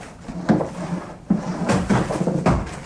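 A drawer being pulled open as a radio drama sound effect, with a few wooden knocks and sliding scrapes in quick succession, close and fairly loud, with no talking over it.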